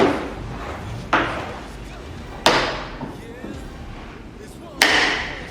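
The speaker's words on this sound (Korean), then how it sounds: "딱 소리가 날 때까지 이쪽도 딱 소리 날 때까지" Plastic clips on a Kia Morning front bumper snap into place during a bumper replacement, three sharp, loud clicks spaced a second or two apart, while a voice talks over them.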